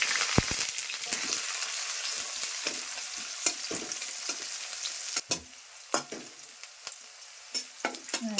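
Onion, garlic and chili sizzle in hot oil in a preheated wok after black cumin seeds are added, making a loud, close, continuous hiss with frequent sharp clacks from stirring and scraping, and no voices.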